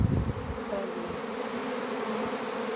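Steady, droning buzz of many honeybees swarming close by at an apiary hive, continuous throughout with a few louder low passes near the start.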